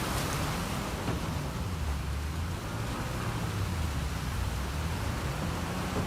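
A waterfall in the Uncharted 4 video game makes a steady, loud broadband rush of falling water. It holds constant for the whole stretch and sits low and full, with no talk over it.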